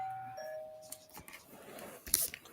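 A doorbell chiming indoors, a soft electronic tone that sustains at the start and is followed by faint clatter and a brief sharp bump, heard alone without talking.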